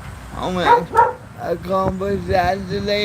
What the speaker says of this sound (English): Sorry, that's my dog in the background